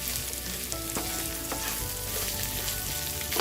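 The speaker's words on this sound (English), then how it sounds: "Stir it for just a few seconds so it wilts." Spicy pork with green beans, onions and a big bunch of chopped cilantro stir-fried in a pan: a loud, steady sizzle throughout with occasional clicks of a utensil, no talking.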